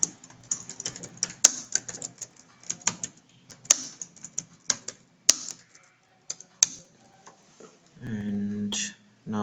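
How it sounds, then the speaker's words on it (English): Someone types a message on a computer keyboard, giving irregular, quiet key clicks with sharper taps in between, followed by a low hum near the end. "Let's say I'm typing here"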